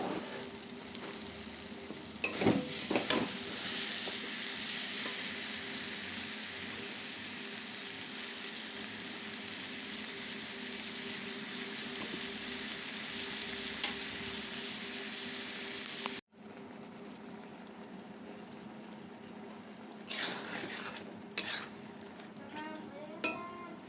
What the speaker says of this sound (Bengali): চলো তাহলে কষানো হয়ে যাক।